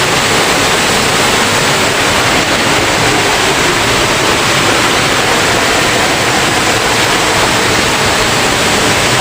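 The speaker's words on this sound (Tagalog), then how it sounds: "Taluntunan Falls." Taluntunan Falls in Ayungon, Negros Oriental roars as a steady, loud, unbroken rush of falling water that fills the whole stretch without pause or voices.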